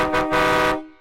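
A loud, blaring horn honks in one sustained blast of about three-quarters of a second, with a slight dip early on, then cuts off and rings out briefly; no talking.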